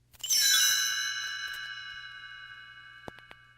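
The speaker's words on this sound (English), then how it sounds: "You will know it is time to turn the page when you hear the chimes ring like this" A bright metallic page-turn chime in a read-along storybook audio recording rings out once, its clear tones sustaining and slowly fading over several seconds, followed by a few soft clicks near the end.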